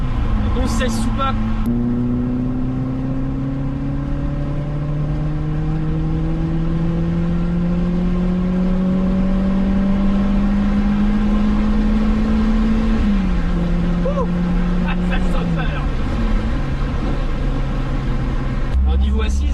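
A Renault Clio 16S's 16-valve engine, heard nearby, holds a long steady rise in revs before falling away and settling, a loud continuous drone with a person speaking over it.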